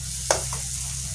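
Chopped tomato and a green chilli go into a spice masala frying in a pan. A single quick stirring knock is followed by a soft, steady sizzle.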